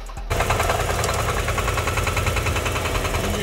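A damaged car engine runs with a knocking, steady and loud, sounding close by after a brief start, with no voices over it.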